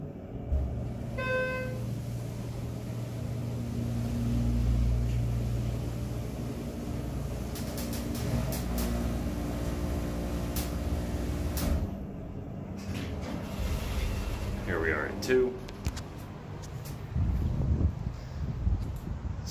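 A Schindler hydraulic elevator ride in a Tampa building: a low steady hum of the hydraulic drive running throughout, a brief chime early on, then clunks and rattles as the car stops and the doors slide.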